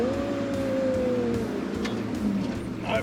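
A Ford Ranger crawls through beach sand in low range, second gear, with the centre diff locked, its engine holding a steady moderate drone and a sustained whine, close and continuous.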